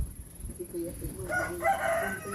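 Chickens clucking nearby with a rooster's crow rising partway through, over faint background noise.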